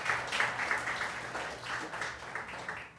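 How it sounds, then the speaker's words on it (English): At an architecture award ceremony, the audience gives a fairly quiet, continuous round of applause with a steady wash of clapping that swells slightly in places and then tapers off. "can we give another round of applause for Alexia, please?"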